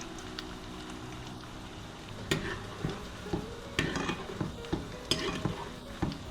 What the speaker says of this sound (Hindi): थोड़ी देर इनको फ्राई होने देंगे और फोक की मदद से हल्का हल्का अलग करेंगे